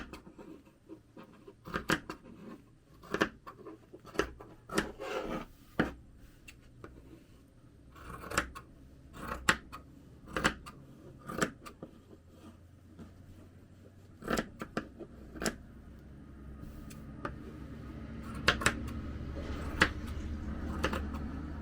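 Scissors trim a fabric strip quilt piece down to its foundation size, giving quiet, sharp snips in irregular bursts, some quick and clustered, others spaced apart, with no talking.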